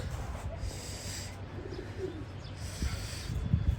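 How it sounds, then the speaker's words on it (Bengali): A male racing pigeon coos low and soft inside a loft, a few murmuring phrases over a steady background hum with occasional louder knocks toward the end. "এটা নর কবুতর"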